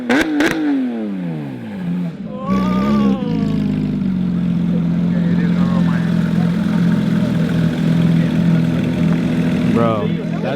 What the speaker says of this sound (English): This guy's been revving all day,